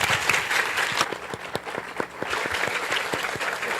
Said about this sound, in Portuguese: eu não precisei nem pedir as palmas ao pessoal espontaneamente